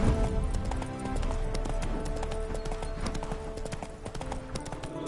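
Horse hooves clip-clop in The Witcher 3 as a mount walks along, a steady, close rhythm of hoof strikes running through the whole stretch over a low ambient game bed.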